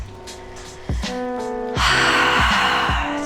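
A deep breathing exhale during a yoga flow class, an audible rush of breath rising partway through and continuing over soft background music.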